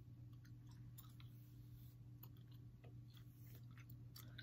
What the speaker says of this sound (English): Why I'm chewing this gum so hard?